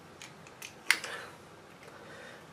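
A tool snips through RG59 coaxial cable with one sharp, brief crunch, preceded and followed by a few faint clicks and handling noises in a quiet room.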